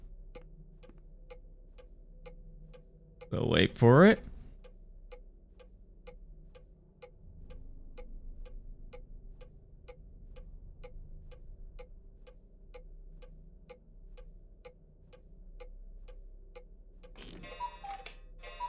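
A steady clock tick-tock in the video game HROT, a regular, even beat running close and clear through the whole span, with someone speaking briefly near the start and a louder burst near the end.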